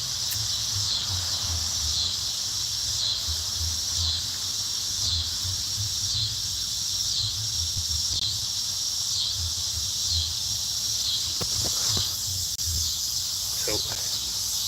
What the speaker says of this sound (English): So you can listen to the cicadas, I guess.